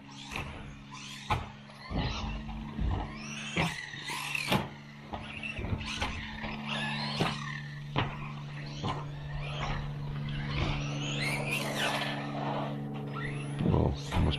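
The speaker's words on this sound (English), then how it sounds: "Car's running pretty good right now, no issues." A small 2WD RC track buggy, an LC Racing BHC-1 or Losi Mini-B, drives around a track, its motor whining steadily beneath repeated sharp tire scuffs and skids, fairly close and continuous throughout.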